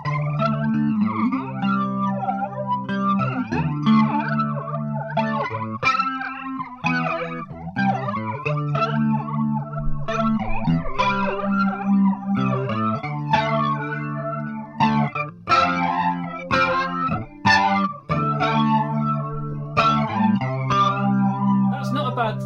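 Electric guitar played through a Danelectro Psycho Flanger pedal, chords and riffs ringing continuously with a sweeping, slightly distorted tone, loud and steady throughout.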